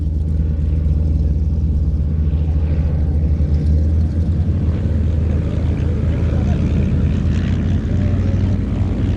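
Propeller engine drone of a de Havilland Chipmunk flying at an airshow, a loud, steady low roar that holds throughout without a break.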